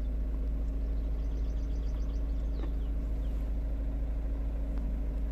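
A Ford Focus 1.6 TDCi diesel with fault code P242F and a particulate filter regeneration issue idles in a steady, low, even rumble with no voices.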